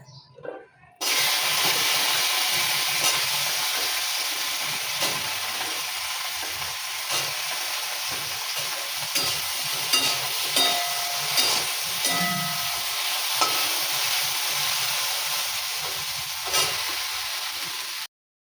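Food fries in a pan on a home kitchen stove, a loud, steady hiss and sizzle that starts abruptly after a second and runs on continuously, with faint clinks scattered through it and no talking.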